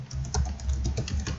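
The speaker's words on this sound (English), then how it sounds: "So you have to type some of the codes." Steady typing of code on a computer keyboard, a close run of quick, fairly even key clicks with a few louder strokes, heard alone without talk.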